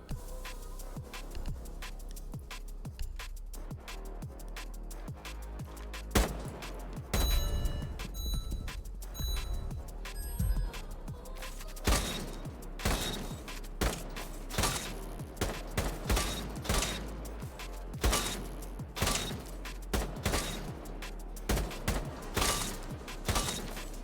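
Gunfire in Rainbow Six Siege while testing a scope: repeated sharp shots in short bursts and single cracks, with mechanical clicks and rattles between them, steady and fairly close throughout with no talking.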